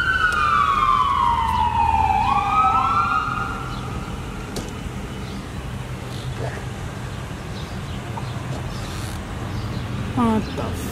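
A fire engine siren wails nearby at an eviction scene, loud and falling in pitch before fading out, with a steady background rumble and a short squeak near the end.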